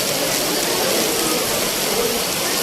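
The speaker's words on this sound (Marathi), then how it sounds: "खूप जोरात पाऊस पडतोय" Heavy rain pours down outdoors during a visit to the Balumama temple near Kolhapur, a loud, steady broadband hiss that fills the whole stretch without letting up.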